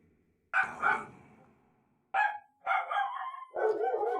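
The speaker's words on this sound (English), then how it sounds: "Yes, dogs." Dogs bark in several sharp, loud bursts, one at first and then three more in quick succession after a pause, close and clear against near silence.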